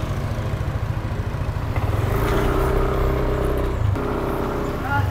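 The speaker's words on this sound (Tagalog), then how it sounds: "Ito, may sasakyan." A car draws near on a narrow, obstructed road, its engine hum rising steadily over continuous outdoor background noise, with a voice faintly present.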